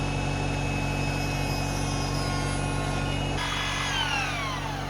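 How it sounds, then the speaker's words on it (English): A carbide burr in a high-speed rotary tool shaves the frame lock shim of an Avant Digger 260 knife, giving a steady, loud, continuous whine with a slight shift in pitch near the end. "The frame lock shim needs some shaving. Needs some carbide burr action."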